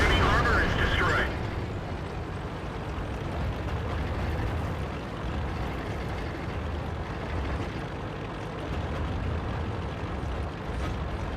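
Cannon fire and explosions from a World of Tanks battle with an IS-3 heavy tank: a sharp blast at the start gives way to a dense, sustained rumble of battle noise, with a voice talking underneath.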